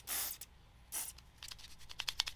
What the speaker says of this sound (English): Sometimes I spray into a paper towel